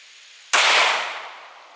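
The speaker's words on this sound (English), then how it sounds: "next up we're doing the 124 grain plus P Hornady Critical Duty" A compact 9mm pistol fires a single 124 grain +P Hornady Critical Duty round, a sudden sharp, loud crack followed by a short ringing decay outdoors.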